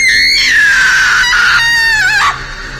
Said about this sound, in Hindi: उसकी चीख इतनी तेज थी कि किसी का भी दिल दहल जाए।